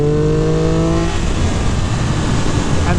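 A 2023 Triumph Speed Triple RR 1200cc street-legal race bike's engine roars loud and close, a steady high-revving drone that shifts pitch midway through, with no voices.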